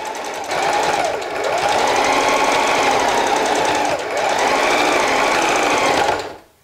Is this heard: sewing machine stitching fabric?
yes